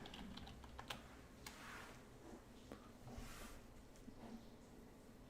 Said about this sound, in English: And we'll type in Baidu here.